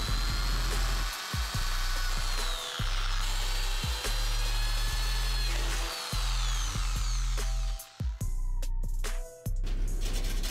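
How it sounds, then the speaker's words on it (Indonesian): Power drill boring holes in a metal PC case in bursts, a harsh whirring grind that starts and stops repeatedly with brief pauses between holes, close and loud. "Lanjut ke pengeboran selanjutnya."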